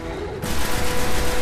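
Dense, continuous video-game gunfire roars in Destiny as a boss is attacked in Old Russia, a rapid, loud fusillade that swells after a brief quieter start and stays steady to the end.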